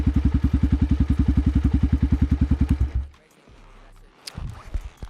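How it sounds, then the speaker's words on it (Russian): A Forte FT200GY motorcycle idles close by with a steady, even thumping beat for about three seconds, then cuts off, leaving a low hum and a few faint clunks. "Вот так вот он звучит. Работает стабильно, холостые держит идеально."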